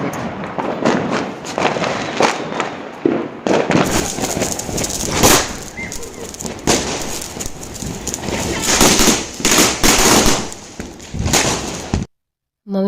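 Popcorn firecrackers go off in rapid, loud crackling bursts, sharp snaps clustering densely for several seconds before a sudden drop to silence, with people talking in the background.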